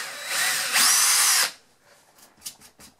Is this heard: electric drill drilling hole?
yes